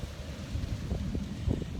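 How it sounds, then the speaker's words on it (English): Strong outdoor wind buffeting the microphone, a low rumbling roar with gusty bumps that swell and fade over a couple of seconds, with no voice present. "it's extremely windy right out here, so hopefully it's not messing with the sound too much"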